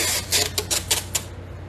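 Thick masking tape is torn by hand while preparing paper for a watercolor painting, giving a quick run of five or six crackly ripping bursts close up, then a brief quiet tail over a faint low hum.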